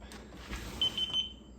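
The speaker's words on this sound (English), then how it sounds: "when the window opens, it should just be kind of a gentle beep" A METAK window and door security alarm, set to a gentle mode, gives three short, quick high beeps close by as a window opens, after a soft knock.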